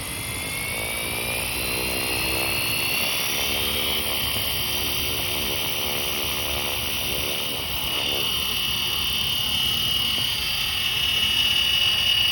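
A Flywing FW450L RC helicopter flies steadily nearby, its rotors and motor making a continuous loud whine and whir with shifting pitch as it maneuvers, with no talking.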